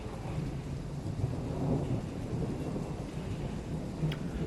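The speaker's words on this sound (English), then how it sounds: "Oh, we're in a thunderstorm." A thunderstorm in the train-driving video game Train Sim World 5, with a steady wash of rain and low rolling thunder rumbling throughout, evenly loud and without voices.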